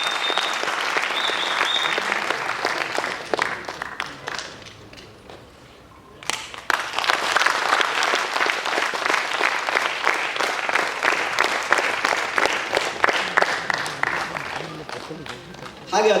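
Sustained audience applause at a Yakshagana arts award ceremony, steady dense clapping from a large crowd that dips briefly, then swells again, with a voice speaking over it.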